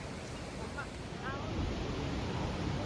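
The Saraswati river near Mana village in Uttarakhand rushes in a steady broadband roar, faint and continuous, swelling slightly partway through with a hint of wind.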